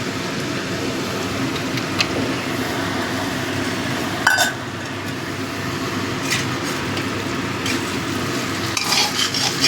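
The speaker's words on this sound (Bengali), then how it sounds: "এই আদা জিরে বাটাটা দিয়ে ভালো করে কষিয়ে নেব যাতে আদা জিরে কাঁচা গন্ধটা চলে যায়" Ginger-cumin paste fries in a pan over melted tomatoes for a vegetarian banana-flower dish, giving a constant loud sizzle, with a spoon repeatedly stirring and scraping and a few sharp utensil knocks.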